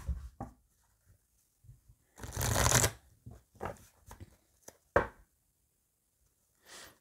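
Oracle cards shuffled by hand for a tarot-style card reading, heard as a dense riffling burst in the middle with a shorter snap later, plus soft taps and card handling in a quiet room.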